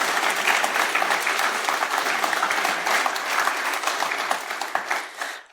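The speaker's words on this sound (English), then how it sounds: "This is your cue to applause." An audience at a security conference talk claps steadily and loudly for several seconds, the applause thinning slightly as it fades at the end.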